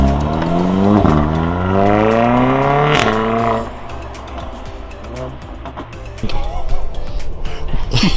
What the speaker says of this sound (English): That's got a much deeper tone to it, and those cracks on the upshift sound so much better.